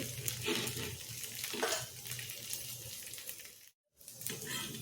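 A maize flour dish roasts on a griddle, giving a soft continuous sizzle with occasional scraping and shifting sounds, broken by a brief silent gap near the end.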